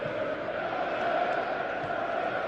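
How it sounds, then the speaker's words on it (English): The crowd at the 2016 FA Youth Cup Final between Chelsea and Manchester City under-18s sends up a steady, distant-sounding roar of massed voices with no clear break. "Now you can hear the crowd."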